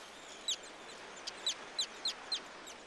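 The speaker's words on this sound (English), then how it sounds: "This tern chick may fly the greatest distance of any bird" A tern chick at a bay meeting the sea gives a series of five or six short, high, piercing calls, evenly spaced and fairly close, over a soft steady background hiss with no talking.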